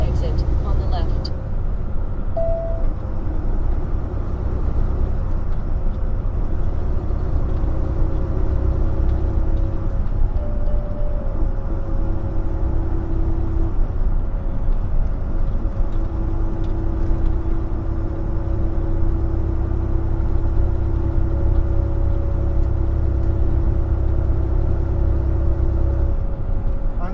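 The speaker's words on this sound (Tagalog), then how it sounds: "Ang ganda ng tunog guys ng truck." A truck's engine drones steadily with a deep, constant rumble as it drives along, loud and continuous, with talk over it.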